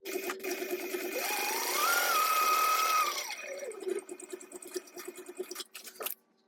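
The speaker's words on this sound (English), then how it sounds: "So now we're going to sew this together at 1/4 inch seam allowance." A sewing machine runs steadily along a quarter-inch seam on a small backpack, its motor whirring and rising in pitch mid-run before slowing, followed by scattered handling clicks and fabric rustles.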